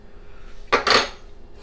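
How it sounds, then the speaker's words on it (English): A fork tosses radish greens salad in a bowl, making a brief close double clink and scrape of metal against the dish, loud against a quiet background. "So I'm just tossing it now with a fork."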